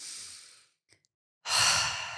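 A person breathing deeply during a relaxation exercise gives a long audible exhale, a pause of near silence, then another full, breathy exhale, close and clear with no talking.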